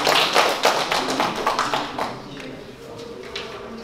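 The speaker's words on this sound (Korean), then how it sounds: "박수 부탁드립니다." Audience applause at a spring literary seminar and poetry recitation in Gangneung: dense, fairly loud clapping for about two seconds, then thinning into scattered claps with faint murmuring voices.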